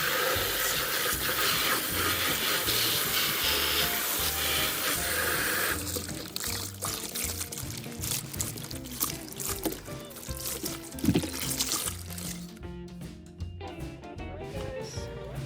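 Water gushes steadily onto trash cans being washed, a loud continuous splash for several seconds that then breaks into irregular sloshing, dripping and clatter as the flow stops.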